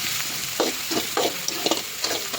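Onions sautéing in a pan for a potato fry, a continuous close sizzle with rhythmic bursts of stirring and scraping every half second or so, no voices.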